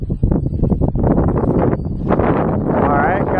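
Wind blusters against the microphone while an xquad 550 quadcopter with RetraX retractable gear flies into a headwind, giving a loud, steady low rumble with gusty surges. A voice is partly buried under it.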